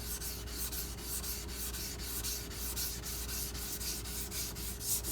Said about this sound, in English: I keep pressure high up on the bevel, so I'm not actually sharpening the edge and removing that material